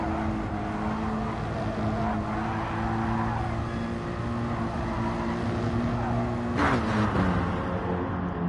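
Mercedes-AMG race car engine at high revs, sustained and loud throughout, with a sharp gear-change break near the end where the pitch drops abruptly before climbing again.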